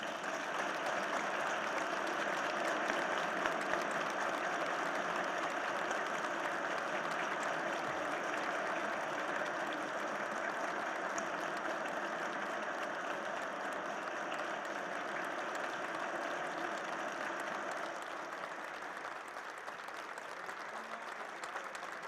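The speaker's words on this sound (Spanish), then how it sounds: "le demos a Roberto Bernal el aplauso" A seated audience at a book presentation on Coahuila's COVID-19 strategy applauds Roberto Bernal, the sustained clapping fairly distant and even across twenty seconds, tapering slightly toward the end.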